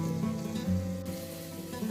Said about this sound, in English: Now I'm adding in the chopped garlic.